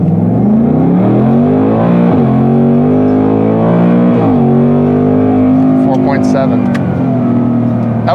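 Modified 2024 Mustang Dark Horse launches and accelerates hard, engine roaring close with rising pitch and quick gear shifts, heard from inside the car.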